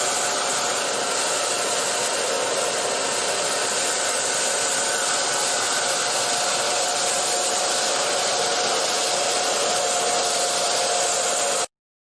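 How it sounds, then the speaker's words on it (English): A hand-held blow dryer runs on low heat over crayon laid on wax paper, giving a steady, loud whooshing blast that holds unbroken for about twelve seconds and then cuts off. "So I did one half of our butterfly with the blow dryer,"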